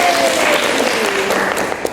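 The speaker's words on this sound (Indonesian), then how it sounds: "Oke, tepuk tangan untuk Taufik." A class of students applauds a classmate after a reflection during a discussion: loud, close, dense clapping that holds steady, with a faint voice briefly audible underneath.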